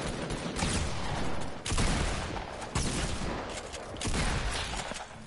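Rapid gunfire in Fortnite, dense continuous bursts of shots with a few sharp breaks and restarts, loud and close throughout.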